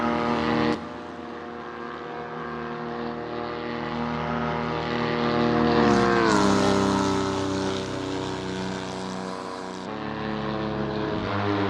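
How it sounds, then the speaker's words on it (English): Several Abarth 595 SS race cars roar around Crystal Palace's 1969 circuit in Assetto Corsa, a loud steady engine drone with rising and falling pitch as cars pass, sustained throughout with no talk. "I love listening to the roar of these engines."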